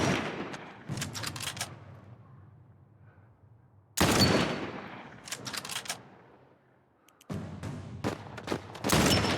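Gunshots from The Last of Us remake ring out in three loud bursts of rapid, sharp reports separated by quieter gaps, close and with no talking.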